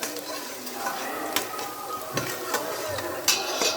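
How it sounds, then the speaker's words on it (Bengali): Sliced onions, cardamom and cinnamon frying in hot oil for chicken biryani, a steady close sizzle with scattered clinks and scrapes of a spoon against the pot, and a brief murmur of voice. "এই যে এখন এই যে পেঁয়াজ দেওয়া হলো, এলাচি আর এই দারচিনি"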